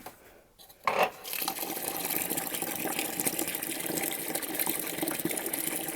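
Water poured into a garden planter runs in a steady, close gush after a brief splash, continuing evenly under quiet surroundings.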